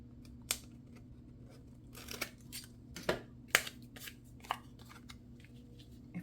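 Scissors trimming paper in a quiet room, a series of soft, separate snips and crisp cuts spaced irregularly over a low background hum.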